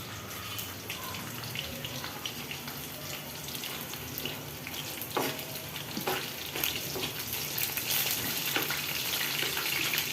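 Food frying in a pan, a steady close sizzle with faint crackles and some clattering or water-like noise running through it, with no talking.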